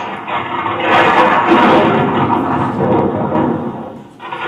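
A long, deep thunder rumble swelling and fading across a few seconds, loud and close, with a low rolling texture.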